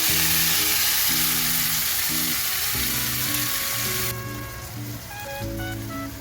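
Steady loud sizzling of soaked lentils dropped into hot tempering oil, a dense crackling hiss that eases slightly toward the end.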